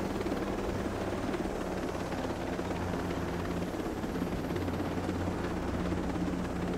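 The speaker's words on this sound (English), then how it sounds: "They don't need that helicopter" A helicopter in the video game Ghost Recon Breakpoint drones with a steady low rotor hum and engine whine, loud and constant for several seconds amid a dense mix of background game noise, no talking.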